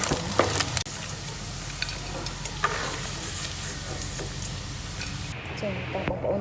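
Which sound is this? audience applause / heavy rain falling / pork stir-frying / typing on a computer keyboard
pork stir-frying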